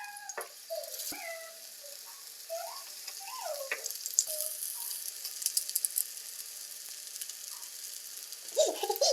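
Potatoes frying in oil in a pan, a soft steady sizzle and crackle, faint and close, with scattered clinks and light scraping over it.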